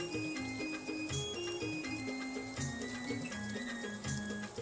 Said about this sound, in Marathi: यात आता आपण गरम पाणी ओतून घेऊ